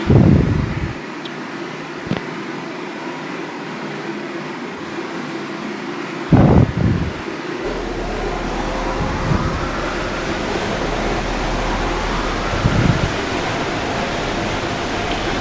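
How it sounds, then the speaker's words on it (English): Ryko Thrust Pro blower dryers at a car wash start up after a few brief thumps, then settle into a loud, steady, broad rushing roar of forced air that fills the rest of the clip. "And here goes the Ryko Thrust Pro."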